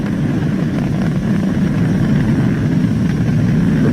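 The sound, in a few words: SpaceX Falcon 9 rocket engines during ascent, throttled down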